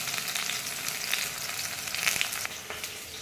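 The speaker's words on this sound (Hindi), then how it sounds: "अब प्याज को हम सुनहरा होने तक भून लेंगे।" Onions fry in a pan for beetroot tikki, a steady close hiss and crackle of oil with small pops and occasional stirring scrapes, no talk over it.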